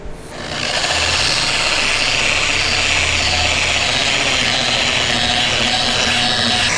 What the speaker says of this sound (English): I will go over the whole thing with the final pad and compound, polishing compound